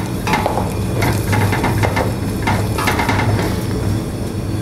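Onion fries in sunflower oil, sizzling steadily and close up, with bursts of crackle and stirring scrapes across the pan.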